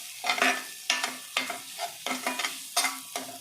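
Mutton keema balls in masala are stirred in a pan, giving a run of about eight rhythmic scraping, sizzling strokes roughly every half second, close and clear, with no speech.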